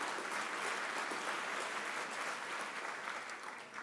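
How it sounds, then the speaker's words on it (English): Steady, dense applause from the audience at the BAFTA Video Games Awards ceremony, saluting the game Mass Effect 2, heard fairly quietly and fading slightly toward the end. "Big round of applause for them."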